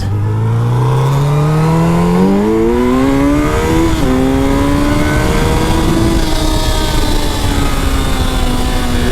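A first-generation Suzuki Hayabusa motorcycle revving and accelerating hard, loud and close, the engine note climbing steadily through gear changes over several seconds with constant wind and road roar and no talking.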